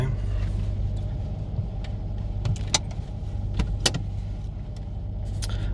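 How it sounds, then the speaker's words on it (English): A 2007 Dodge Charger idles steadily after being started, a constant low engine hum with a few brief clicks and knocks over it, no talk. "So I started the vehicle."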